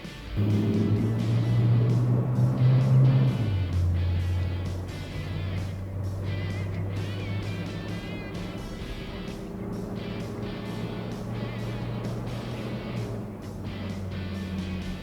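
A 1992 Toyota Land Cruiser II Prado in power mode accelerates with a loud, low engine drone that eases after a few seconds into a steadier cruising hum with road noise, and no talk.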